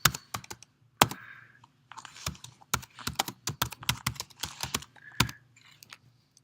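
Rapid keystrokes on a computer keyboard, close and crisp, tapping in irregular bursts with brief pauses between runs of keys, with no voices.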